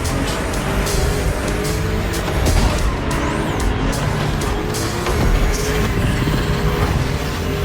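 BMW 3.0 CSL racing in the video game The Crew Motorfest: a steady, loud engine drone with tire noise and shifting pitch sweeps throughout, no talk.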